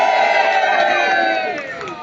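A live concert audience cheers and whoops loudly at the Lincoln Asylum 2024 show, a dense crowd roar holding steady for about two seconds before easing off slightly.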